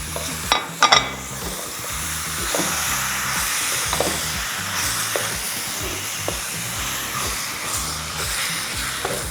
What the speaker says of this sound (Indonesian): Sekarang kita masukin daging sapi bagian sandung lamur nih guys